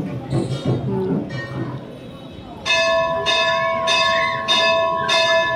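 A temple bell at a Hindu mandir rings several times in regular, bright metallic strikes with long ringing tails. The strikes follow a stretch of children's and adults' voices nearby.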